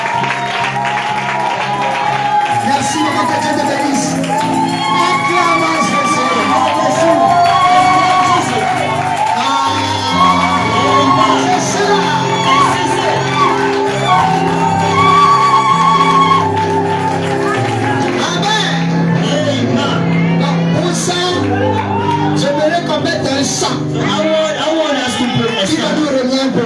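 A church congregation at a Sunday wedding service cheers and applauds with shouts and whoops, a loud, sustained burst over singing and music that carries through the whole stretch.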